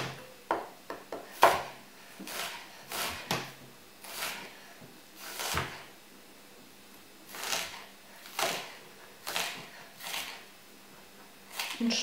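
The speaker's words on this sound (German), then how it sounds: "Und schneiden die Zwiebel klein" A knife chops an onion on a board in a home kitchen, giving soft irregular taps and slicing scrapes, close and quiet, some strokes coming in quick pairs, with no talking.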